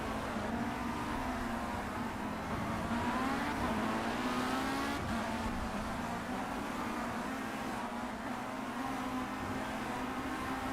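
A Formula C race car in Project CARS drones steadily at high revs on the Willow Springs Horse Thief Mile, its engine note rising and falling slightly, fairly faint and continuous, with no one talking.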